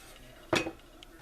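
A single dull metallic clunk as pumpkin bread is flipped out of a copper pan onto a surface, close and brief against a quiet kitchen.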